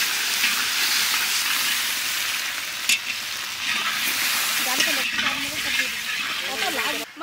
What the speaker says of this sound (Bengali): এবার মাংসের জন্য আলু ভাজা চলছে